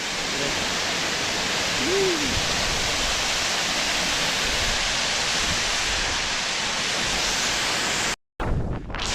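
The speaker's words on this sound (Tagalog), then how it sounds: "alright guys, welcome to waterfall." Steady, loud rush of the waterfall at Pahangog Twin Falls in Bohol, a dense broadband roar filling the whole clip up close, with a brief dropout near the end.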